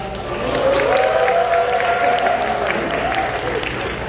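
Wedding guests in a hall give a sustained round of applause and clapping, loud and continuous for about four seconds, with scattered crowd voices underneath.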